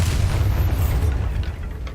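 A Bombarda blasting spell explodes in Hogwarts Legacy, a loud, sustained low rumble that rolls on for about two seconds before easing slightly.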